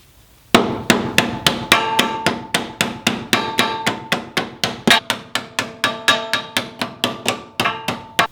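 A hammer striking sheet metal on a Jeep's new rocker panel, roughly twenty-five sharp ringing blows in a steady fast rhythm, loud and close, each with a brief metallic clang.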